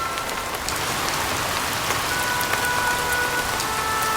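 Steady rain falls, a dense, even hiss of drops spattering on surfaces, constant and close for the whole stretch with no voices.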